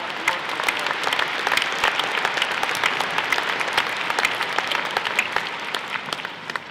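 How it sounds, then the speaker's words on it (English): Audience applause at an event with a US senator speaking in Michigan's Upper Peninsula: steady, dense clapping from a crowd filling the room, even in level and moderately close throughout. "I want to give a round of applause to NMU"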